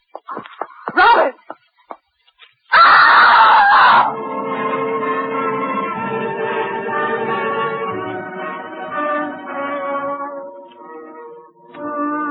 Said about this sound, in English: It was a good, loud scream.